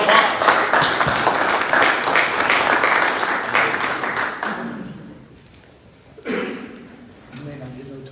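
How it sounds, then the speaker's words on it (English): Audience applause at a Rotary Club meeting in Prattville as two speakers are welcomed to the front, a dense steady clapping for several seconds that fades out, followed by brief voices. "Let's give them a round of applause."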